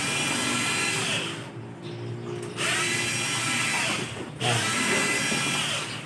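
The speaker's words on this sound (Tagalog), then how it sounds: "Kaya pahinto-hinto yung ating drill, low-bat siya." A low-battery cordless power drill churns skim coat in a bucket with a steady loud whir that twice cuts out briefly and restarts, close to the mic.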